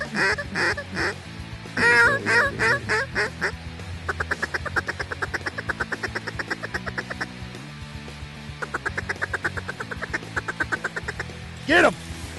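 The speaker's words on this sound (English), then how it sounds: "All right, Rob, that's too many ducks" A flock of ducks calls during a waterfowl hunt in Canada, rapid loud quacking and honking in repeated runs, near and dense, with a brief louder call near the end.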